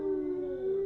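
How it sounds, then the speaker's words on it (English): Dogs or wolves howl in spooky Curse of Strahd ambiance, a steady sustained tone held near and clear with no talking. "they're barking in the background or howling in the background"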